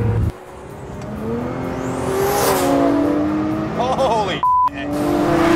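A 1400 hp AMS Alpha 12 Nissan GT-R pulls hard with a steady engine roar and a rising turbo whine, then chirps and flutters off-throttle near the end as a person lets out a brief exclamation.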